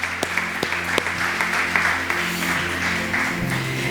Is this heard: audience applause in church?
yes